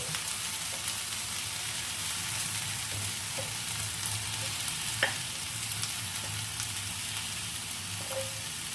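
Okra, potato and tomato fry in a pan for a fenugreek okra dish, a steady close sizzle and crackle with a few faint clinks of stirring.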